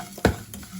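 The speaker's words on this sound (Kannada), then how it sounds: "ಅದನ್ನೀಗ ಚೆನ್ನಾಗಿ ಹುರಿಯುವ" Cumin seeds frying in a hot pan for sambar, a close sizzle under one sharp scrape of a stirring spoon and a lighter clink just after.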